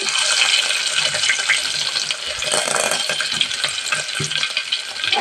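Garlic, cumin and curry leaves fry in oil with a dense, close sizzle and crackle, mixed with scraping stirs, steady for several seconds with no voices.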